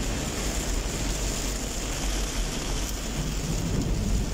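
Heavy rain pours down so hard the road ahead cannot be seen, making a dense, unbroken roar that stays loud and even throughout. Thunder may be mixed into the rumble, and no one speaks.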